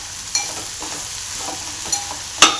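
Okra palya fries in oil while being stirred in a pan, soft sizzling under a few quick scraping and clinking strokes of the spoon.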